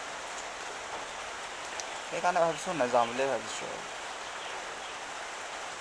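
Steady rain falls throughout, a dense even hiss on a cold rainy day, with a voice speaking briefly in the middle over it.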